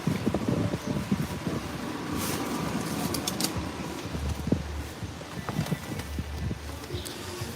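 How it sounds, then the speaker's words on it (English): Gusty wind buffets the microphone in low rumbling bursts, with rain patter and umbrella rustling mixed in throughout at an outdoor march in London. "it's windy, it's raining, and the umbrella is trying to blow down as much as it can"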